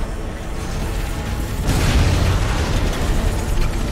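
A nuclear cannon in Crysis (PC, 2007) fires a heavy blast that booms out partway through, swelling over a constant background rumble of game noise.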